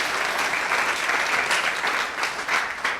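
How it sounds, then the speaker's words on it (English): An audience at a memorial lecture breaks into sustained applause, a dense steady patter of many hands clapping close and loud throughout, with no voices over it. "Can we give them a round of applause?"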